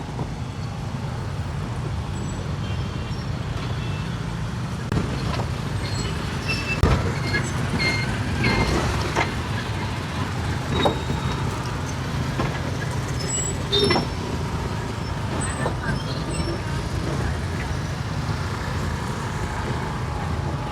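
Heavy road traffic near a petrol station in Jaffna: a continuous rumble of buses, cars and trucks passing close by, with occasional horn beeps and engine swells over the drone.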